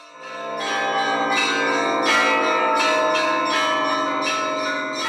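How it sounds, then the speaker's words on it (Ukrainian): Church bells rung by a monastery bell-ringer ensemble in Sharhorod, Ukraine, several bells struck in a lively repeated pattern with long ringing overtones, loud and clear with no talk. "Хіба може когось залишити байдужим музика дзвонів, музика небес, що лине від самого Бога?"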